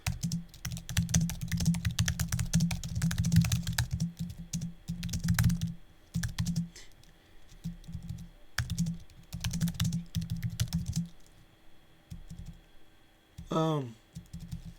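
Typing on a computer keyboard comes in dense bursts of rapid clicks that stop and start over the stretch, close and fairly loud, and a voice is briefly heard near the end.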